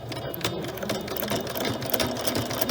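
A sewing machine stitches a tote bag with a quarter-inch presser foot, running in a steady, fast, buzzing rhythm without pause, close and clear.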